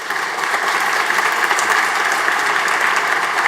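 A graduation audience at a university commencement ceremony bursts into steady, dense applause that fills the hall at even loudness from start to finish, with no voices standing out.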